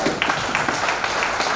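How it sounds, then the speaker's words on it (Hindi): An audience at a direct-selling network success event claps together in a steady, dense wash of applause. It stays close and fairly loud for the whole short stretch, with no speech over it. "सब ताली होना चाहिए"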